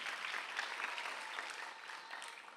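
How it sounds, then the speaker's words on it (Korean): A church congregation claps steadily for a couple of seconds during a Sunday service, a dense and even patter of many hands heard at a moderate distance. "박수 하나 더 해주세요"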